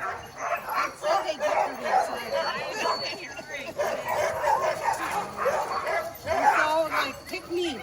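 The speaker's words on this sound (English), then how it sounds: "We got a whole new set of dogs over here that they're going to probably hook us up to." A pack of Alaskan sled dogs barks, yips and whines in a constant excited chorus, close by and fairly loud, as a dog team is brought in to be hitched up.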